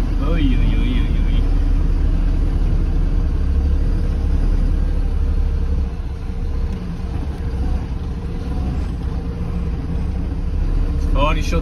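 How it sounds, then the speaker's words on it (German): A car climbs a rough mountain dirt track in the Romanian Transalpina area, its engine rumbling loud and steady throughout with jolts from the uneven ground, while someone talks over it. "Jetzt fahre ich schon 10 Minuten solche Pisten"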